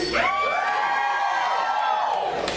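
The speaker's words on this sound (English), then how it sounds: "I am talking about clapping and cheering, folks." A burlesque audience at a 1920s speakeasy-themed show screams and cheers as one sustained crowd roar, with high whoops riding over it and a few brief claps poking through.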